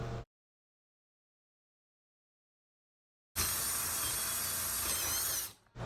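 Power drill with a taped bit boring a hole into wood, starting abruptly after a silence and running as a loud, steady whirring grind for a few seconds before winding down.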